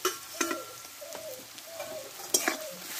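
Ginger and garlic paste goes into a hot pan for alur dom, giving a soft sizzle and frying crackle with a few stirring scrapes and knocks, one sharper clatter near the end, fairly faint and steady with no talking.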